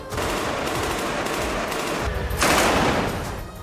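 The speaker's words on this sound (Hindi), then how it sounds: "इससे पहले उन्होंने मकान के अंदर खूब गोलियां चलाई।" Continuous rapid gunfire rattles loudly and densely inside a building in Gaza during war, swelling into a sharper burst near the end before easing slightly.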